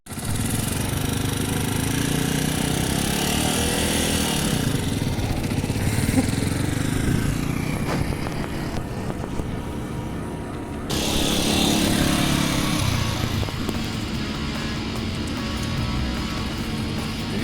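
A Yamaha YZF-R125 motorcycle engine running steadily up close, a continuous buzzing drone that dips briefly and then resumes, with no talking.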